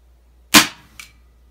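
A Diana Stealth AM03 spring air rifle fires once, a sharp, close crack followed by a short mechanical thunk a moment later.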